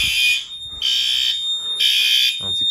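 A Firelite ES-50X addressable fire alarm system sounds indoors in loud, steady high-pitched horn bursts, three blasts separated by short gaps, with a brief low thump near the end.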